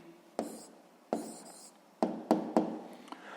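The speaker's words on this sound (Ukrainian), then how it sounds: "записуємо відповідь, пишемо відповідь." Pen or chalk strokes writing down a physics answer, a close series of short scratching strokes with sharp taps at the start of each, in an otherwise quiet room.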